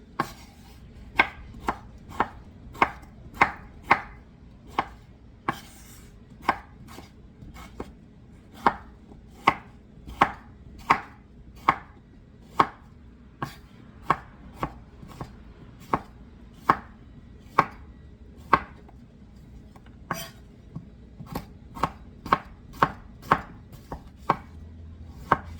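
Knife blows chop ingredients for pear mincemeat on a board in a quick, steady run of about forty crisp, close strikes, with no talk.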